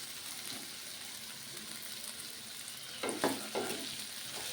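Spiny bitter gourd curry fries softly in oil under a lid, a low, muffled sizzle. A brief cluster of louder stirring clatter comes near the end.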